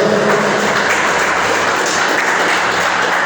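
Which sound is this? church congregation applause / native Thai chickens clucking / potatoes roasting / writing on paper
church congregation applause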